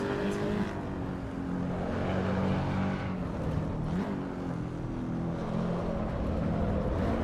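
Race car engine in the Assetto Corsa Evo racing game, a steady high-rev drone with little change in loudness, holding at a fairly quiet level under a busy rushing layer throughout.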